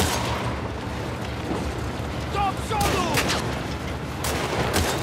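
Gunfire in The Last of Us Part II: a few sharp shots crack out over dense, noisy game ambience, with faint tonal sounds in the middle.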